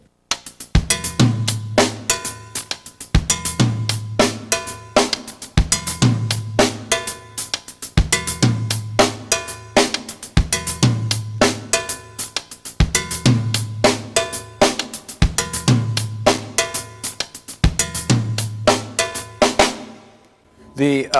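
A songo drum groove: right hand on snare rim, cowbell and small tom, left hand on hi-hat and snare, looping steadily in repeating bars with punchy low tom hits and bright clicks, loud and alone.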